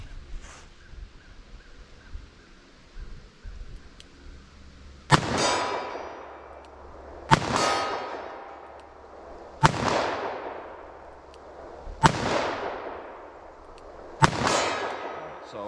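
Five loud .44 Magnum revolver shots fired at a target outdoors, evenly spaced about two seconds apart, each sharp crack followed by a long ringing decay, with no talking.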